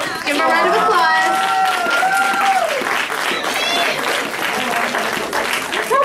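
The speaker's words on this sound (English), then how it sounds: "Give him a round of applause." Crowd applause at a live comedy show, loud and sustained clapping with cheers and a few whistles riding on top, gradually thinning out toward the end.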